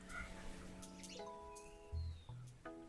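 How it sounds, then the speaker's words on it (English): Birdsong from a nature-sounds recording played back on a device: faint, scattered chirps and tonal whistles in short bursts over a quiet room background. "this one is just like nice nature sounds, I think."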